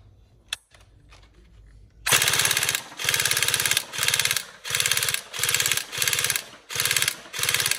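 A TM AK Storm NGRS airsoft electric gun fires in rapid full-auto bursts, loud and close, eight or so chattering strings separated by brief gaps, after a quiet start with a single click.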